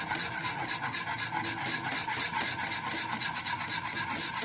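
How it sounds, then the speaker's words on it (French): Crème pâtissière mixture being stirred in a saucepan, a steady, continuous scraping and rubbing that stays close and fairly loud with no talking over it. "Tout en mélangeant."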